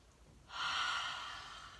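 A person draws in a long, deep breath during an exercise routine, a single steady airy inhale rising after a quiet start and holding for over a second, close and fairly soft.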